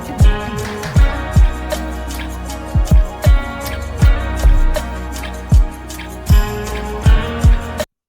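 Mastered music track processed with the Soothe dynamic resonance removal plugin: full-band mix with a punchy, regular kick-drum beat about every half second, sustained tonal layers above, loud and steady, ending abruptly near the end.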